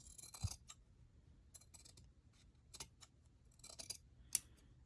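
Scissors trim the frayed edge of a paper page for a junk journal, making a series of crisp snips in irregular bursts, close and fairly quiet with no talking.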